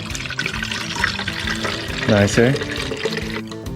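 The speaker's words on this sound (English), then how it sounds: "Pour the stuff in here." Liquid humic-acid soil conditioner pours into a hose-end sprayer bottle. A gurgling, splashing pour runs close by while someone briefly speaks over it.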